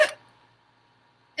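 A storyteller's voice imitates a hiccup, giving two short, sharp hiccup sounds, one at the start and one at the end, separated by near silence.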